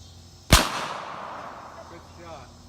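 A single loud gunshot from a 12 gauge shotgun or 9mm pistol at outdoor target practice. The sharp crack is followed by a fading, echoing tail, with no talking.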